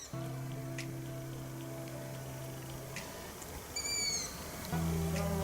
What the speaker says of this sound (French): il y a un oiseau qui pousse des cris